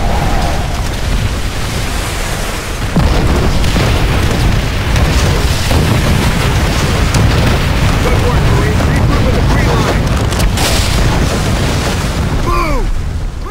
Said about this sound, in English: Call in rocket strikes on those positions, now!